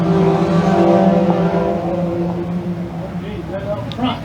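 Thunder Cars roar off at the start of a heat race on an oval track, a loud blend of engine drone and crowd noise under an announcer's continuous commentary.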